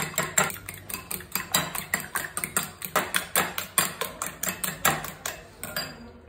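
A utensil whisking egg mixture for a mushroom omelette with salt and red chili powder in a bowl: rapid, rhythmic metallic clinks against the bowl, about four strikes per second, close and bright, stopping abruptly at the end.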